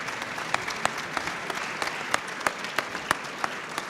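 Steady, dense applause fills the hall at the 2014 Midi Libre sportsperson-of-the-year awards evening, with sharp individual claps popping out above the continuous patter, moderately loud and sustained.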